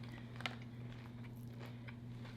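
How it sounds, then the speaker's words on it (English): A crunchy bite of food being chewed close up: soft crackly crunches in an irregular rhythm over a steady low hum, with no speech. "Ooh, that crunch."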